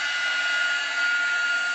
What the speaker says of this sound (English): I have my dryer here, so I'm going to go ahead and use that